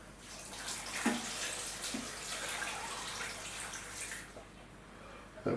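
Homemade oxtail stock is poured into a slow cooker for beef stew, a steady liquid splashing and trickling with a couple of small knocks, fairly close and alone.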